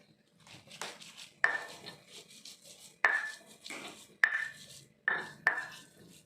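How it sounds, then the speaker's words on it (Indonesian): Dried shrimp and spices are ground in a stone mortar with scraping, rubbing strokes and sharp knocks, several separate hits at an uneven pace. Quiet and close, with no voices. "Nah, sekarang ebinya juga diulek ya, sama-sama dengan bumbu."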